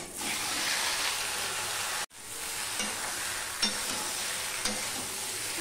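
Jujubes dropped into tempered five-spice mix in hot oil, a loud steady sizzle with a brief dip as the fruit goes in, then frying continues with a few light clinks.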